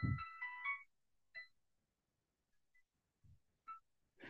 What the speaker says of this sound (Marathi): माझा फोन आला काहीतरी, एक सेकंड